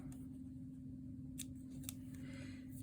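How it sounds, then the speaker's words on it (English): Scissors snip through thick crochet yarn on a twisted headband: two quick faint cuts over a steady low background hum. "Now, I'm going to pull this, and I'm going to snip this."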